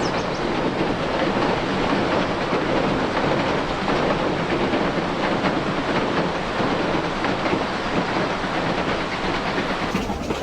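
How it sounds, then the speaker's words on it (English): The Durango and Silverton narrow gauge train rolls along beside the Animas River, producing a dense, continuous, loud rumble and rattle of wheels and cars that holds steady throughout, with no voices. "the train makes its first crossing of the Animas River"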